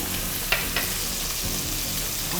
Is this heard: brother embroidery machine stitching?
no